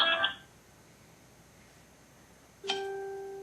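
A phone chirps in a family courtroom: a brief electronic tone at first, then after a quiet pause a steady beeping ring starts and keeps sounding, fairly close with no talk over it.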